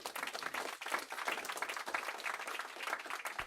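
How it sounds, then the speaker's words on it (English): A crowd gives itself a round of applause at a New York community event on free internet, faint and somewhat distant, with uneven bursts of clapping throughout. "let's give yourself a round of applause"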